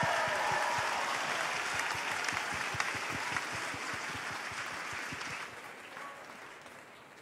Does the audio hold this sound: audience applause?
yes